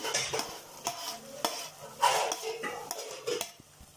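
Sautéed onion, tomato and crushed garlic being stirred in a pan: repeated close scrapes and clinks of a utensil against metal in an uneven rhythm over a faint sizzle.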